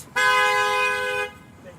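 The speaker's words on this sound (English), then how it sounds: "Honk for human rights." A single car horn blares in one loud, sustained honk lasting about a second at a street protest outside an immigration detention center, close by.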